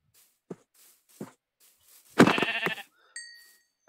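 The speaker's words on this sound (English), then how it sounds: "hunt down a couple of sheep" Sheep bleating in the Minecraft video game: a few short soft bleats spaced apart, then one longer, louder wavering bleat, followed by a brief bright chime-like tone.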